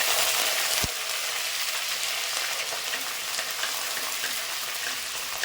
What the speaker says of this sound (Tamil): சத்தம் கேட்குது பாருங்கள் பட பட படன்னு இப்போ கருவேப்பிலை போட்டுக்கலாம் நல்லா பொரியட்டும்